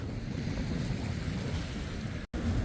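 Wind buffets the microphone in a constant roar at a cold, windy Pensacola beach, with waves and surf mixed into the steady rumble and a brief dropout near the end.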